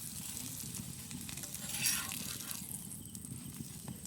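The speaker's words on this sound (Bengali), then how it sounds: "এই যে দেখেন উল্টায় পাল্টায় ভাজার পর আমার পরোটা হয়ে গেছে" Paratha frying in ghee in a pan, a steady soft sizzle that holds at a low, even level throughout with a brief louder crackle midway.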